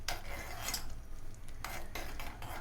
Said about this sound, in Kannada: ಈಗ ಇದನ್ನು ಚೆನ್ನಾಗಿ ಮಿಕ್ಸ್ ಮಾಡ್ಕೋಬೇಕು.